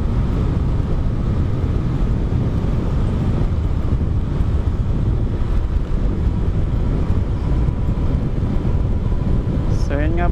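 Constant wind buffeting rushes loudly past on an MXi125 motorcycle ride with stock-size tires. The roar is broad and steady, a faint motor hum sits underneath, and a short vocal sound appears near the end.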